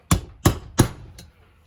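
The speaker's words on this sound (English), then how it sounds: "tap this bearing in." A hammer taps a bearing into a 2006-2014 Honda TRX450R engine case during a rebuild: four sharp metallic knocks in an even rhythm, the first three loud and close, the last lighter, with nothing else sounding between them.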